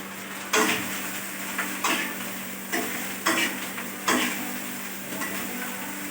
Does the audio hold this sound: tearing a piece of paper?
no